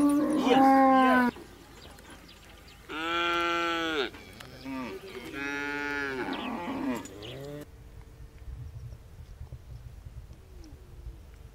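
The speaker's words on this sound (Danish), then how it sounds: "Et par 100 meter fra lægen er dyrlægen i gang med at behandle de syge køer." Sick cattle in South Sudan give several long, loud, wavering moos and bleat-like calls in separate bursts, then fade into a quieter stretch of background noise.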